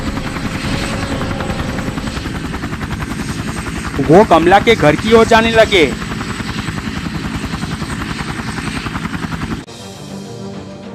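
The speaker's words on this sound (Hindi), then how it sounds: "सरदार जी हेलीकॉप्टर चलाने लगे।" A helicopter drones steadily throughout under a narrator's voice, with a brief louder burst of other sounds midway before the engine noise drops away near the end.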